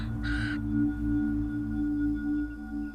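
A raven gives one harsh, raspy caw out in sagebrush country, heard alone against a quiet background with a steady low hum.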